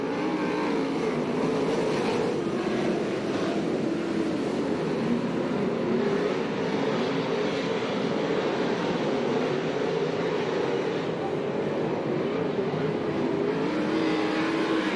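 USAC/CRA sprint cars roaring as they accelerate at the green flag on a dirt track in Alger, Washington, a dense, continuous engine drone filling the whole stretch, loud and steady.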